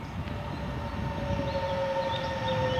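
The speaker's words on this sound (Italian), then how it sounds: "Abbiamo un bellissimo treno Coradia Meridian verde di ultima generazione" A green Coradia Meridian passenger train runs out of a railway tunnel with a continuous roar, a sustained tonal whine and faint higher squeals over the top, steady and fairly close.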